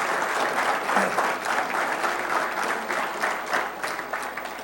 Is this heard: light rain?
no